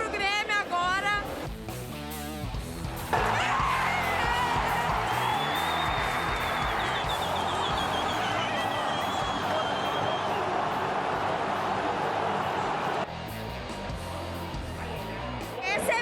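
Grêmio football supporters cheer and sing in a stadium, a dense, sustained roar of many voices that swells after a brief opening of speech and fades back near the end.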